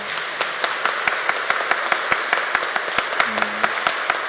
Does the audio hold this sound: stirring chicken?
no